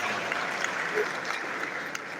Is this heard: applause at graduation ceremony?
yes